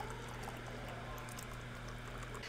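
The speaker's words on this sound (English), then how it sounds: "Let's pour in some tea." Tea pours steadily into a mug, a continuous quiet liquid stream with no talk over it.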